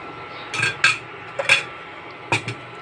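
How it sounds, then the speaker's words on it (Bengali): A wok set down on an induction cooktop in a home kitchen gives several close metallic clanks and scrapes, spaced irregularly over a few seconds, with no talking. "কড়াইটা বসিয়ে দিলাম।"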